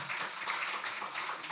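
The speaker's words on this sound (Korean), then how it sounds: "우리 수고하신 성가대 다시 한번 경의 박수하겠습니다" Church congregation applauding its choir after a Sunday service hymn, a soft, even patter of many hands clapping, fairly quiet and distant with no speech over it.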